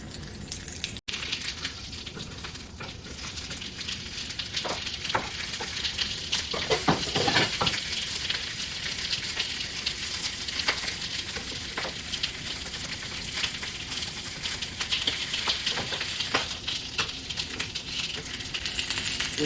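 Corn kernels sizzle and crackle steadily in a hot pan, a dense close frying hiss with occasional scrapes and stirring knocks, no talking.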